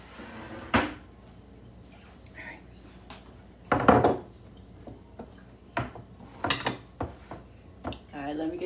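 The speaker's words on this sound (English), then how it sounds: "Let me get the bigger cutting board." A bigger wooden cutting board is pulled out in a home kitchen. Several sharp knocks and clatters of wood against cupboard and counter come close by at irregular intervals, with softer shuffling between them.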